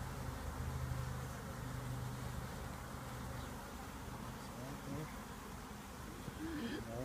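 Bees at an open hive give a steady, low, faint buzz that drones on without a break, with soft voices faintly in the background.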